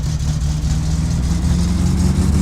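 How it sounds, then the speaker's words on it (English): Satsuma car engine in the video game My Summer Car labouring at low revs, a loud, steady low drone with a dense rumbling hum and no pauses. "I don't like the low revs, it makes me think that it's going to stop moving."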